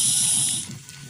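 Beaten egg and malunggay mixture poured into hot oil in a pan gives a loud, close, hissing sizzle that is strongest at first and eases off within about a second.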